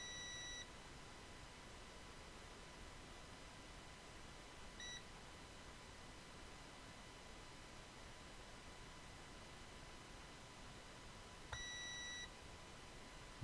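Continuity beeps from a multimeter probing a laptop motherboard for shorts: a steady high tone runs through most of the stretch, with short extra chirps and a fresh beep near the end over a hissy background.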